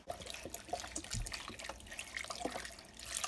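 Vegetable broth poured from a 32-ounce box into a crock pot, a steady liquid trickle and splash running continuously at moderate level with no talking.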